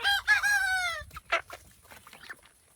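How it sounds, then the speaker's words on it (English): Backyard chickens cluck while a rooster lets out a loud, drawn-out crow at the start, followed by scattered nearby clucks and squawks. "We are going to look at chickens. This is a chicken update, and look at how big they are."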